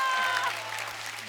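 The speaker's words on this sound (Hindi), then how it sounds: "जोरदार तालियां सोनू के लिए।" A brief burst of studio audience clapping for Sonu on a comedy show, dense and loud at first, then thinning slightly, with a low steady hum beneath.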